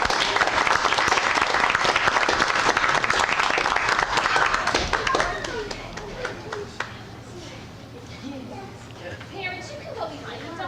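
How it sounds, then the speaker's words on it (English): A school board meeting audience applauds three-year-old children as they come on, with loud, dense clapping for about five seconds that then fades into a murmuring room of people and kids talking. "Will you give them a round of applause?"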